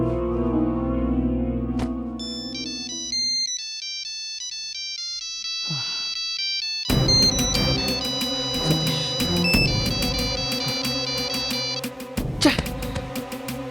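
Phone ringtone playing loudly and continuously, a bright electronic melody of repeating tones that shifts partway through into a busier, fuller tune, with no voices.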